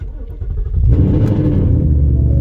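A C7 Corvette fitted with a new Corsa Xtreme exhaust rumbles close up, a low idle swelling into a louder, deeper sustained rumble about a third of the way through and holding steady to the end.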